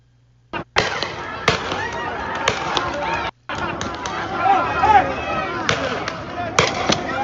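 Non-lethal rounds fired at protesters during unrest in Los Angeles ring out as a handful of sharp, separated bangs over a continuous roar of crowd noise and voices.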